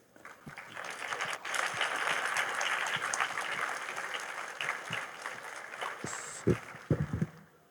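Audience applause for a panel at an analysis roundtable on artificial intelligence, a steady wash of clapping from a crowd that holds for several seconds and thins near the end, with a few louder claps.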